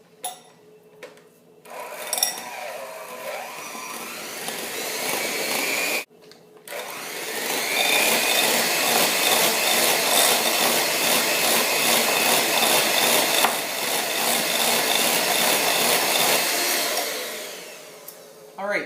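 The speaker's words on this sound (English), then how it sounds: "I'm going to quickly beat this for a couple minutes till it's like nice and the butter's nice and creamy" An electric mixer creams butter for a chocolate hazelnut buttercream, whirring loudly and steadily through two long runs separated by a brief pause, with some quieter handling noise at the start.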